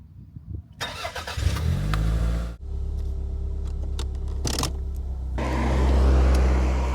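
A 1990s Toyota Caldina GTT starts up: a starter whir and a sudden catch into a loud, steady idle with a rev rise near the end, heard close up with no talk.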